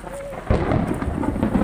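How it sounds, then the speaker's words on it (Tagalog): Rain pouring on a farm road under construction during a storm, a sudden loud burst of thunder-like rumble after a quieter start, then sustained rushing rain with no clear speech. "Magpapadya ang panahon. Lalakas uli ang ulan."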